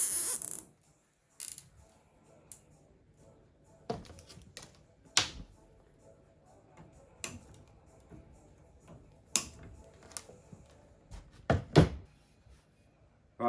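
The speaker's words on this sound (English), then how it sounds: "I'm going to zip tie these together like so." Zip ties being fastened around parts of a handmade bonsai pot, giving a few sharp ratcheting clicks and snaps at irregular intervals amid quiet handling noise, close and fairly soft.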